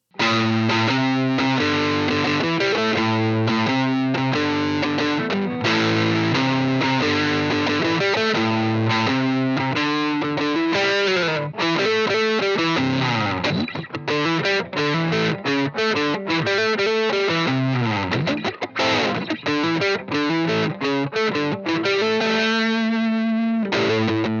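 Pink paisley Firebird-style electric guitar with its pickups played through heavy distortion and effects, chords and riffs ringing loud and continuous throughout with no talking.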